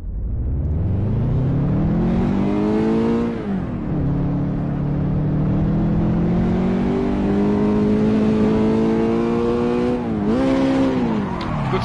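A race car in Assetto Corsa pulls away from a standing start in first gear with an H-pattern gearbox, the engine loud and close, revving steadily upward, dipping briefly at a shift, then climbing again.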